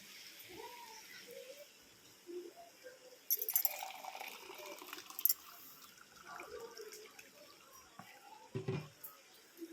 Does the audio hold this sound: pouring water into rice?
yes